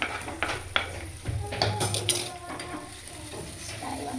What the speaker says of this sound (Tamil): பேனில் நம்ம இப்போ எண்ணெய் ஊற்றிக்கலாம் கைஸ் கைஸ் நம்ம இப்போ வெங்காயத்தை மட்டும் போட்டு வதக்கி எடுத்துக்கலாம்